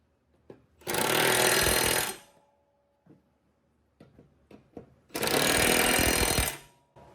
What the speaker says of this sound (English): we're gonna go ahead and tighten these guys down.